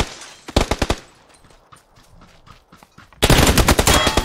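Gunfire in PUBG: a quick string of five or six loud shots, a quieter pause with faint distant pops, then a sustained rapid burst of automatic fire close by.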